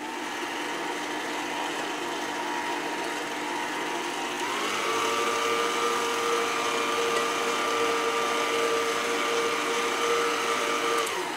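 A dough kneading machine runs steadily with a constant motor whine that shifts to a higher, smoother pitch partway through as water is added, with no talk over it.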